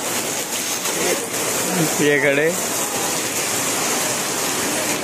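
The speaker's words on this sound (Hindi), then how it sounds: "दोस्तों कुछ तगड़ी बारिश स्टार्ट हो चुकी है, पहले तो बूंदाबांदी चल रही थी" Heavy rain hisses steadily outdoors in Delhi during Janmashtami, a dense wash of falling water. Someone speaks briefly over the downpour.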